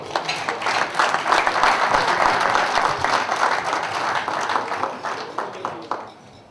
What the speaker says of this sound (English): another big round of applause for that